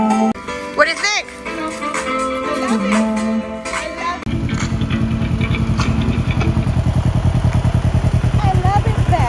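Motorcycle with chrome Bluetooth speakers playing music, which carries on steadily as the engine revs up and accelerates, a loud rhythmic engine pulse taking over halfway through while the music stays audible.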